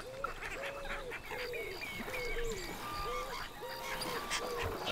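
Geese honk repeatedly in the Perfect Golf video game, a run of nasal calls of varying length spaced a fraction of a second apart over steady ambient background, with no talk.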